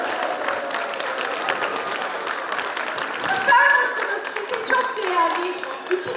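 An audience applauds at a live cooking event, welcoming guests onto the stage with sustained, dense clapping that swells slightly midway, while a voice talks over it.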